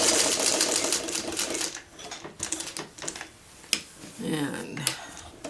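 A sewing machine runs in short bursts of rapid stitching and back stitches on a churn dash appliqué block, with clicks and pauses between runs while a person talks.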